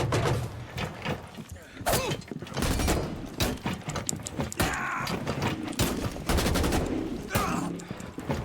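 Rapid gunfire from a drop shot in the video game Rainbow Six Siege, with sharp bursts of shots scattered through the clip over game mechanisms and effects, fairly loud and close.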